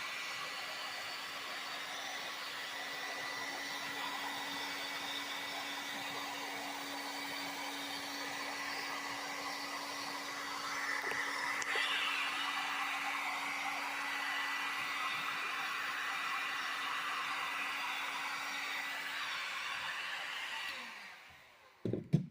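Heat gun blowing hot air to shrink black heat-shrink tubing over a wiring harness on a four-wheeler. A steady, even blower hum with a faint whine runs close by for about twenty seconds, then switches off.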